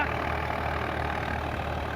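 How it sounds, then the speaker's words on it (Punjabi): A Swaraj 855 tractor labours to power a straw chopper fed with green stalks, giving a loud, steady, unbroken engine drone with a deep low rumble throughout. "ਟਰੈਕਟਰ ਪੂਰੀ ਜਾਨ ਲਾਈ ਜਾਂਦਾ ਬਾਈ"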